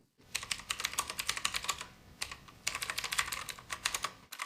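Rapid clicky typing on a decorative typewriter-style computer keyboard, close and crisp, in two bursts of fast keystrokes separated by a brief pause, with no talk.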